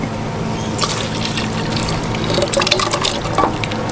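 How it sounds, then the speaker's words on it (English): Pap mixture of maize meal, cold water and salt poured into a pot of boiling water during a South African braai cook, a close, steady liquid splashing and trickling that grows busier toward the end. "now we'll start adding it in little bit by little bit"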